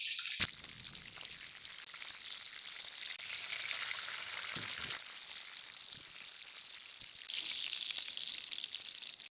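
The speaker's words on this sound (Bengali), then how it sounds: "মাছগুলো আমার সব ভাজা হয়ে গেছে" Tilapia pieces frying in hot oil for a mustard fish curry, a steady dense sizzle running throughout at moderate level, growing slightly louder near the end, with no talking.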